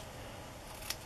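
Scissors cutting a paper tag during a craft session, a single quiet crisp snip near the end of a short, faint stretch of room noise.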